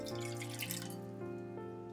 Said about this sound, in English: I add 150 grams of water